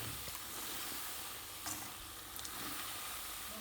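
Poori fries in hot oil with oil spooned over the top, a faint, steady hiss and crackle that continues without break and with no speech.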